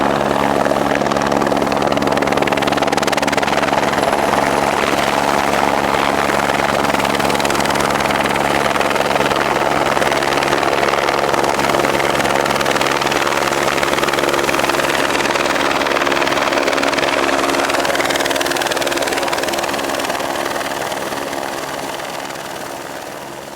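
A helicopter sits close by with its engine running and rotor turning, a loud, steady whine and thrum that holds throughout and eases off slightly near the end, with no talk.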